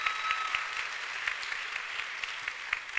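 Audience at the Miss Florida pageant in St. Petersburg giving a steady round of applause, many hands clapping at a fairly soft, distant level with a few sharper claps standing out.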